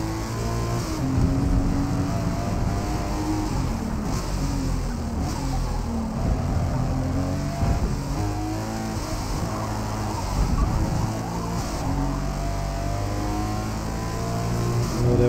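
A Toyota GR Supra engine drones and revs steadily through gear changes in the Forza Motorsport racing game, a continuous loud, close mechanical tone rising and falling with throttle, with no one speaking over it.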